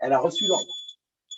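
A building alarm sounding after a manual fire alarm call point is pressed, a thin, steady high electronic tone that runs under someone speaking French and carries on briefly once he stops.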